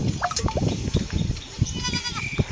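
Goats kept by a herder in rural India bleat repeatedly in short wavering calls, loud and close, over a lively outdoor background with people talking nearby.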